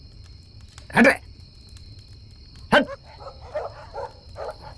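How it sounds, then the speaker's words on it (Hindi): Dogs bark outdoors in two sharp, loud barks about two seconds apart, followed by softer, shorter yips. Someone speaks briefly between them over low background hum. "ये कुत्ते भी भौंक रहे हैं।"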